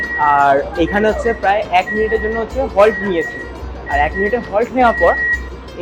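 A steady high warning beep repeats at a regular rhythm aboard an AC local train halted at a station before its doors close, heard under continuous close talk by a man.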